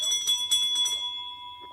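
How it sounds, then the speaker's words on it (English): Small bells are rung in quick repeated jingles, a bright, clear ringing that fades into a sustained tone. "Ring the bells."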